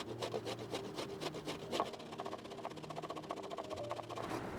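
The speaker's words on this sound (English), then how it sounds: "I'm going to grate this coconut right now" A coconut is scraped against a grater at a campsite, making a steady series of rough rasping strokes, close and fairly loud, with a faint background hum.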